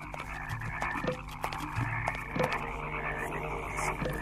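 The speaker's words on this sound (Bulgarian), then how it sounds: "а жабите ставаха все повече и повече." Many frogs croaking in an animated film set in ancient Egypt, overlapping throaty croaks and ribbits repeating in irregular bursts, a dense chorus at moderate volume with no talk.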